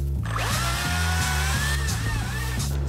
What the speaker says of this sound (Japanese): このバッテリーのチェーンソーも結構使えるですね